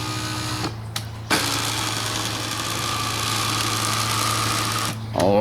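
Electric power seat motor in a 1960 Ford F100, a steady mechanical whine that runs for about four seconds between short pauses, close and moderately loud.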